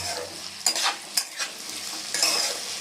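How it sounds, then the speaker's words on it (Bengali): Flat beans are stirred and fried in a pan with a close, steady sizzle and several scraping strokes of a spatula breaking through, with no talking. "আমি আবার নাড়িয়ে নিচ্ছি কেননা সিম দিলে সিমটা গলে যায় খুব তাড়াতাড়ি হয়ে যায়"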